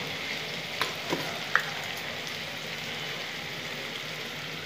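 Kashmiri chili powder hits hot oil in a pan and sizzles with a steady, soft frying hiss and a few faint clicks of stirring, quiet and close.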